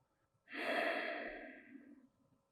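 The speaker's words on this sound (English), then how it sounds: "just allow your breath all the way out" One long, breathy exhale during a breathwork session, swelling quickly and then tapering off gradually, close and soft.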